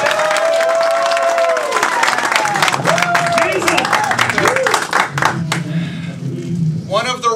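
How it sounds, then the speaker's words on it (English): A wrestling show crowd practices a round of applause, with clapping and cheering rising under a loud voice, swelling and tapering over several seconds before a fresh shout near the end. "Let's practice our round of applause."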